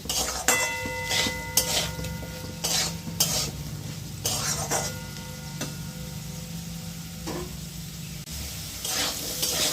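Potatoes frying with turmeric and salt in a pan sizzle steadily while a utensil stirs and scrapes them in repeated strokes, close and fairly loud, with no speech over the cooking.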